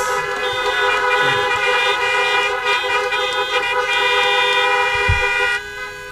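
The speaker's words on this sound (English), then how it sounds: "Can I hear some honks for those parents?" Several car horns honk together at a drive-in graduation ceremony in a long, sustained chorus, with some short low thuds underneath before the honking cuts off near the end.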